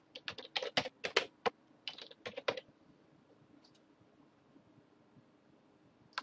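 Keys on a computer keyboard tapped in quick bursts while a database password is entered, close and crisp, then a pause of near silence with faint clicks and one final keystroke.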